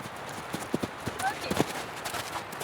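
Horse hooves clopping in a quick, uneven rhythm on the ground, moderately close, against a low outdoor background.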